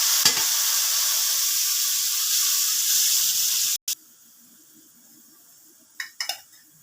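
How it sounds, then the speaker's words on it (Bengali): Water poured onto frying onions in a pan sets off a loud, steady hissing sizzle that cuts off abruptly, followed by quiet and a few brief clattering scrapes near the end. "পেঁয়াজটা ভাজা হয়ে গেছে, এবার একটু জল দিয়ে দিচ্ছি"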